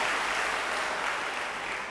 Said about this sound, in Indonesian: Jadi tepuk tangan buat kalian yang sudah berhasil masuk ke sini.